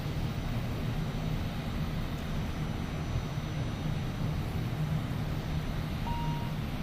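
Steady drone of an ATR72-600 turboprop's engines heard from inside on a flight between Shimojishima and Ishigaki, a constant loud hum with low tonal propeller harmonics and no talk.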